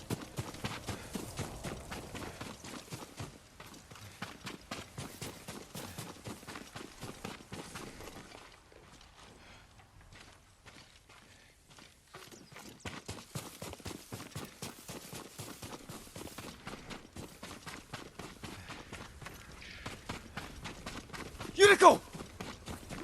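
Rhythmic clip-clop of horse hooves in the video game Ghost of Tsushima trots steadily, fades quieter midway, then picks up again with a brief louder burst near the end.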